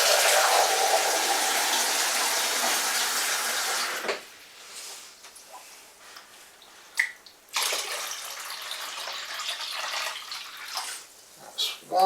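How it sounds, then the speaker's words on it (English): Cold tap water gushes steadily into a homebrew wine jug for about four seconds, then stops, followed by quieter splashes, drips and handling sounds. "with cold water"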